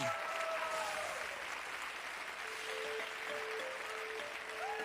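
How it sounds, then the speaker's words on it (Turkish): Studio audience applause for competing teams on a Turkish TV game show, a steady broadband wash of clapping holding for the whole stretch with faint musical tones underneath. "Korkusuzlar ve Yıldırımlara kocaman alkış"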